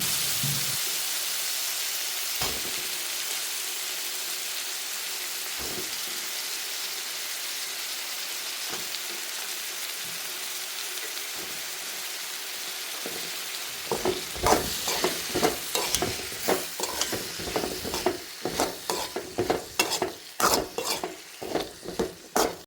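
Chili powder, pepper and brinjal sautéing in a pan: a soft steady sizzle at first, then a rapid series of loud stirring scrapes and clatters over the frying.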